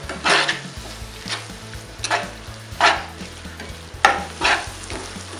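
Tomatoes frying and being stirred into an egg masala mixture in a pan: a steady sizzle broken by about six distinct scraping stirs spaced roughly a second apart, close and clear, with no talking.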